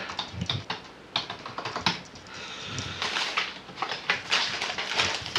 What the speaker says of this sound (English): We type the part number in.